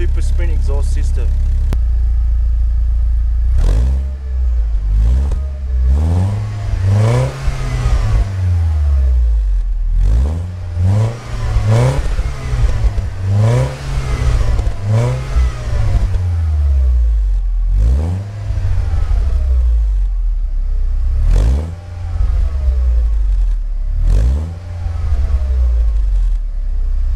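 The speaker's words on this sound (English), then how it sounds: "I'll give you guys a quick listen before I go of what the exhaust sounds like." A Mercedes-Benz W203 with a Supersprint cat-back exhaust revs repeatedly, each blip rising and falling in a steady series of loud, close throttle bursts, with a voice talking over parts of it.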